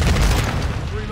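A grenade blast in the shooter game Modern Warfare II, a loud, close, broad roar that fills the whole clip and slowly tails off.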